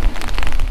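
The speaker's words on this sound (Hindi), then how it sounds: "अगर यहाँ इस तरह से ओले गिर रहे हैं तो ऊपर तो पक्का बर्फ गिर रही होगी" Hail falls on a mountain trek near Kareri Lake, giving a dense, steady patter of hard pellets with no pauses, close and fairly loud across the whole short moment, and no voices.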